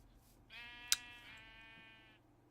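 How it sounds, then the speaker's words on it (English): A sheep in the blocky Minecraft world lets out one drawn-out, wavering bleat, fairly close and clear against a quiet backdrop, with a brief sharp click near the start. "There's some sheep over there. A lot of sheep."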